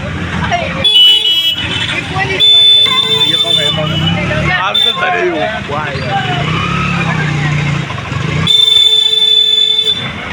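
A vehicle pulls away with an engine running, punctuated by bursts of a buzzy electronic horn near the start, in the middle and again near the end, while people talk over it.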